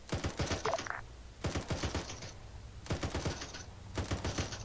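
Gunfire in the military simulation game ArmA 3, heard as four loud bursts of rapid automatic shots separated by short pauses, with no speech over them.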